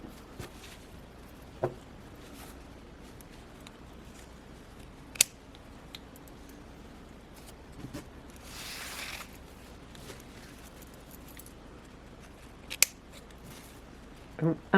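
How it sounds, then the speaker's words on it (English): Scissors snip through recycled sari silk fiber at stitched seams, a handful of sharp, isolated clicks spread out over quiet room tone. "I'm cutting where the pieces of the recycled silk are stitched together"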